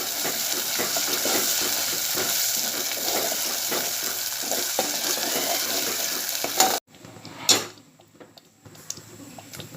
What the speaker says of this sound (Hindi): मीडियम आंच पर तेल में अच्छे से भूनूंगी।